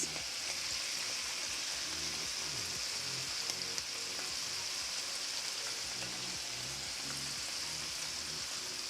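Ground pork browns in a pan with taco seasoning mix, a steady, close frying sizzle with soft crackles throughout and no voice.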